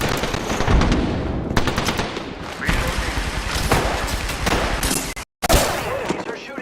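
Dense automatic gunfire from enemies in the battle-royale video game Apex Legends, sustained bursts overlapping with game effects and a voice talking, loud throughout with a brief cutout near the end.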